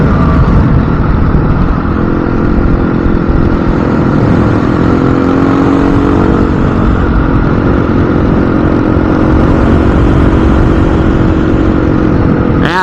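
A motorcycle with no slipper clutch or quickshifter runs loud and close on a warm Nevada ride, its engine droning steadily with slight pitch swells under heavy wind rush throughout.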